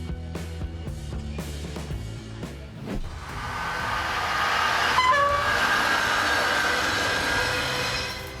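A military train pulls out of a port, its rumbling rolling stock building into a steady loud roar with a brief horn toot partway through, sustained to the end.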